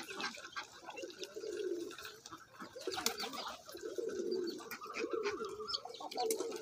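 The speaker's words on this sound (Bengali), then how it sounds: "এই কয়েকটা কবুতর আর এই কয়েকটা হাঁস আছে" Pigeons cooing in low repeated phrases on a small farm with ducks, close by, with faint chirps and occasional wing flutters in the background.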